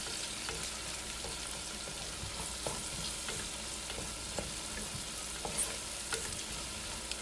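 Onions and garlic frying with turmeric powder in a pan for an egg and chickpea curry, a steady close sizzle with scattered stirring clicks and scrapes, no talking.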